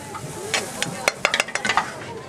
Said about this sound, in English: So let's get that stirred in now.